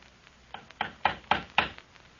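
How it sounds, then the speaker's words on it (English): Five or six knocks on a door in an old radio drama, evenly spaced and growing louder, each a sharp hollow rap close to the microphone. "Someone's at the door, Rosa."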